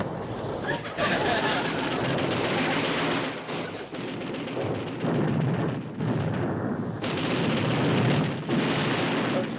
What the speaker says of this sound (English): Fire torpedoes 1 and 2! Fire forward guns! Fire depth charges 3 and 4!